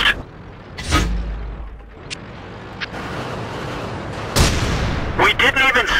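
A heavy tank cannon shot ringing off armor in World of Tanks, a loud booming blast followed later by another sharp impact and clattering mechanical rattle, with a rumbling engine bed underneath.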